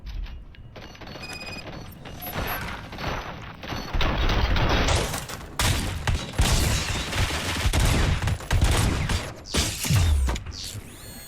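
Sustained gunfire from a battle in the RoboCop Rogue City video game: dense, overlapping bursts and volleys that hold loud throughout, with mechanical clatter mixed in and no clear speech.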